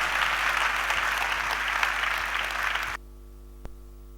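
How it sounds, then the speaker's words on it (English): Audience applause welcomes a speaker at a Tuesday church service seminar, a dense steady wash of clapping for about three seconds that cuts off abruptly, followed by near silence with one brief knock. "let your applause be big as we welcome Kojo Adokufo"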